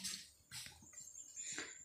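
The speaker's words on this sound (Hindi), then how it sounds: "अब मैंने इसके अंदर पानी डालना है, तकरीबन आधा गिलास के करीब पानी है।" Water is poured into a cooking pot while preparing an oil-free chicken curry, a soft splashing trickle that comes in a few separate bursts, quiet and fairly close.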